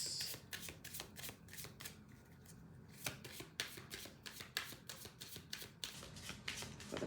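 Angel cards being shuffled by hand, a steady run of quick, crisp flicks and riffles close up, with no voices.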